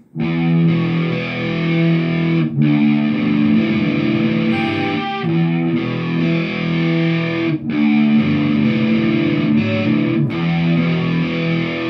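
Distorted electric guitar playing the bridge of a song, with loud, heavy chugging chords in steady sections broken by brief gaps, played alone without talking.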